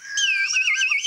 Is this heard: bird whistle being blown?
yes